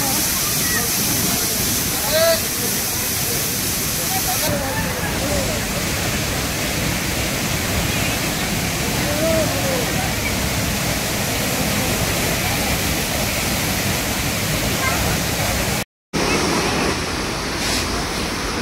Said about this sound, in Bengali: এখানে অব্দি জলের ছিটকে আসছে।